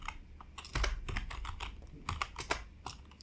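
Rapid keystrokes on a computer keyboard as a shell command is typed, a fairly quick run of crisp, close clicks with short pauses, no voice.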